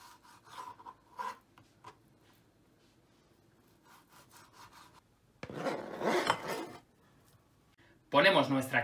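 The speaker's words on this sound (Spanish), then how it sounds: "le vamos a dar un corte en el centro y vamos a hacer nuestras tiras" A knife cuts beef steak into strips on a board for Mongolian beef, giving short scraping, sawing strokes, quiet at first and then two louder close bursts near the end.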